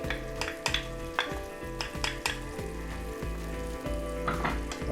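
Onions sizzle steadily in a hot pan while being stirred, with repeated scraping strokes of a utensil over a continuous frying hiss, close and fairly loud, no talking.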